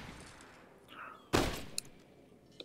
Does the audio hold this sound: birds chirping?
no